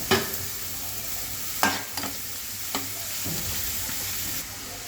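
Ridge gourd pieces frying with ginger garlic paste for an Andhra-style gourd and chana dal curry: a continuous close sizzle broken by several scraping stir strokes, no speech.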